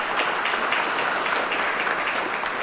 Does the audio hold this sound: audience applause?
yes